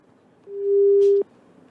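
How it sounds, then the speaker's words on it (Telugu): A single steady telephone busy tone sounds on a dropped phone line, holding loud and even for about three-quarters of a second before cutting off sharply, with near silence on either side. "I think phone line cut అయినట్టుంది."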